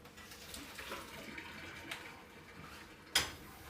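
Boiled potatoes drained in a kitchen sink, a quiet wash of pouring water with soft splashes and a brief clank of a pot near the end.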